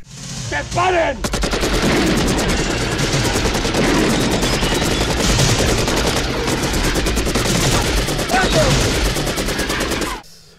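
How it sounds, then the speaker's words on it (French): Sustained machine gun fire from the action film Commando, a dense rapid burst of shots running loud and continuous for about nine seconds after a brief lead-in, with no speech. "c'est dans Commando, où le mec il tire à la mitrailleuse"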